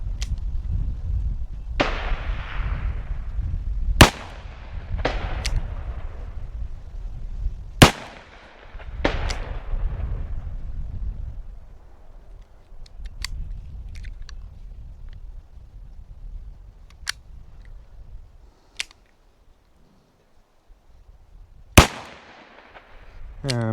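A Smith & Wesson 586 L-Comp revolver fired outdoors, with about nine sharp, loud shots at irregular intervals, each cracking then ringing out, amid low background rumble and occasional voices.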